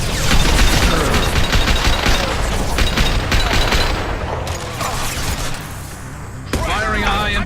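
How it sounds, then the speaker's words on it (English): Rapid gunfire rattles through a firefight in Mass Effect 2, loud and dense for several seconds, then briefly dropping away before another burst returns, with game sounds and effects layered over the shooting. "Firing a high-impact shot!"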